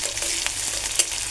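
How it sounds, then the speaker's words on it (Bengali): Green chillies and chopped onion fry in oil for an okra dish, with a continuous close sizzle and a sharp utensil tap near the end. "এখানে আমি ঢেঁড়স ভাজি করার জন্য কাঁচামরিচ নিয়ে নিয়েছি, পেঁয়াজ কুচি নিয়ে নিয়েছি। এগুলো আমি তেলে ভেজে নিচ্ছি।"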